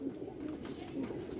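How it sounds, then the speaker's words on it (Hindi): An original Rampuri pigeon coos nearby, a few low rolling calls repeating in a steady rhythm. "ये देखिए ये ओरिजिनल रामपुरी कबूतर है।"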